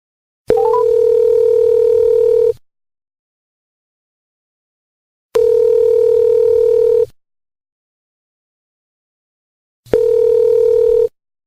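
Three bursts of steady telephone dial tone, each about two seconds long with silent gaps between them, heard as a Korean radio call-in show connects a phone interview. The tone is clean, loud and close, with no talking over it.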